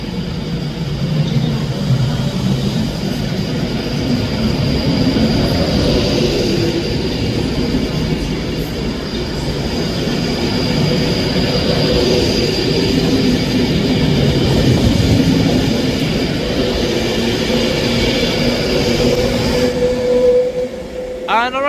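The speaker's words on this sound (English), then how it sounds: "Departing out now is the 10:58 Avanti West Coast service from Edinburgh Waverley to London" An Avanti West Coast train to London Euston pulls out of Edinburgh Haymarket station with a loud, steady rumble of wheels and engine that swells past the listener, ending with a brief wheel squeal.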